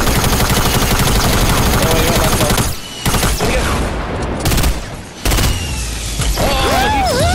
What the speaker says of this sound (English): I just got a shotgun off.